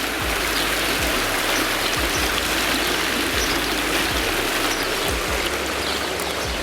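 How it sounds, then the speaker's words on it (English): Hotel fountains at the Four Seasons in Marrakech splash continuously nearby, a dense, steady hiss of falling water like heavy rain on a pool surface, with no voices. "look at the fountains"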